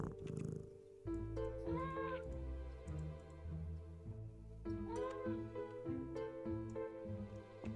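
A cat meows several times over a continuous purr in the Nancy Drew Mystery of the Seven Keys video game, close and fairly loud, with no talk.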